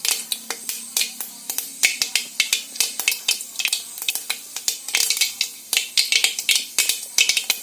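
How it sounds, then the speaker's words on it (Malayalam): Mustard seeds splutter in hot oil for a pumpkin curry tempering. Sharp, rapid pops and crackles burst irregularly and loudly up close, with no talking. "ഇനി കടുക് ചേർത്ത് കൊടുക്കാം. കടുക് പൊട്ടിക്കഴിയുമ്പോൾ"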